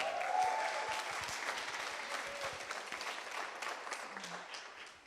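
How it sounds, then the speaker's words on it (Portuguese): A church congregation claps for a young woman about to give her testimony, a lively burst of applause that starts strong and slowly thins, with murmurs and a brief voice under it. "Vamos aplaudir a Jéssica, gente."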